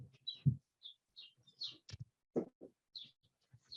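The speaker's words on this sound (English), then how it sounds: "I have a bird that is literally going to town outside my door." A bird calls loudly just outside a door, its sharp chirps and tweets repeating in quick, irregular bursts close to the listener, with no talking.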